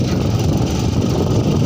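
A motorbike engine misfiring, heard as a steady, loud, low rumbling drone with uneven, rough pulsing throughout and no voices.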